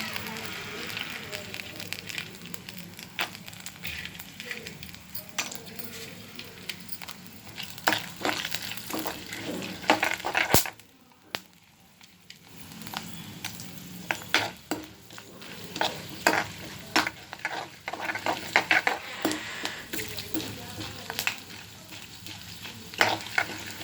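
Cashews roasting in a pan for ven pongal make a busy close-up sizzle, with repeated scraping and clattering of a spoon as they are stirred. The sound drops out briefly partway through, then the sizzle and stirring resume.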